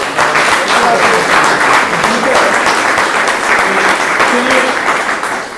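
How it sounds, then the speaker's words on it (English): Sustained, loud applause from an audience thanking a speaker, many hands clapping in a thick, even wash that holds steady and fades slightly at the end, with faint voices mixed in. "let's give Brian another round of applause"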